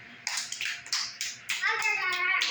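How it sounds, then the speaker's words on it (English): A small group of children in a classroom story session claps in several short bursts, close and crisp, before a voice starts talking. "Give her a clap."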